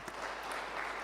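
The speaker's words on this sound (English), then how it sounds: "Another round of applause, please, for the Premier." Audience applause for the Premier at the opening of the House of Traditional Leaders, a steady, even wash of clapping from a crowd, moderately distant and unbroken for about a second.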